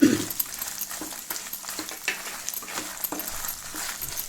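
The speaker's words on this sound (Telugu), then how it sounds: "ఈ మిరపకాయలు కొంచెం వేగుతుండగా అల్లం ముక్కలు వేసి వేయించుకోవాలి." Green chillies and ginger pieces, with garlic, fry in a kadai, giving a steady low sizzle with light crackles and occasional scrapes of a stirring spoon throughout.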